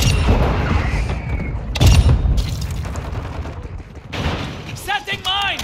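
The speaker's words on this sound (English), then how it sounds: "Tossing sticky grenade!" In Call of Duty Modern Warfare 2 Team Deathmatch on Shoot House, a heavy sticky grenade boom lands amid scattered gunfire, with voices calling out over the battle.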